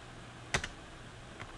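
Numbers being typed on a computer keyboard while drawing in a 3D modelling program: a few quiet key clicks, a quick pair of taps followed by one lighter tap, over a faint background hum.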